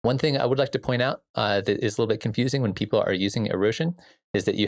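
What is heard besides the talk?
None of the usual background noises is heard.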